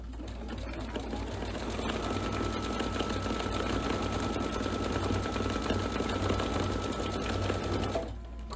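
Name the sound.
embroidery sewing machine stitching spider webbing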